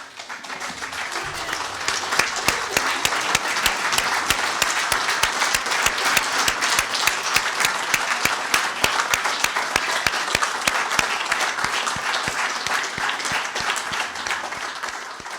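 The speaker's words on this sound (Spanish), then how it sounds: "Un aplauso para ustedes" Sustained applause from an audience at a gathering, steady dense clapping that holds at full strength for about fifteen seconds with a few sharper claps standing out.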